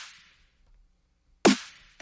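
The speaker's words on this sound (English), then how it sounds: "And then the snare sounds like this." A single sharp, punchy synthesized snare hit, made in Serum, cracks out after near silence, with a short noisy tail.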